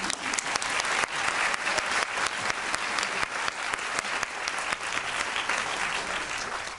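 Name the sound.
applause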